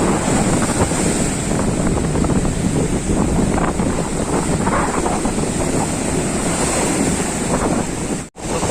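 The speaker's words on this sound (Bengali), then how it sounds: "কত দূর থেকে ঢেউগুলো আসছে দেখো" A continuous, close roar of surf crashing and churning, with heavy wind buffeting the microphone throughout, on rough seas at Shankarpur beach.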